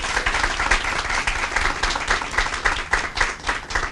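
Steady audience applause at a career center grand opening, dense clapping from a crowd continuing evenly throughout without a break, no voices over it.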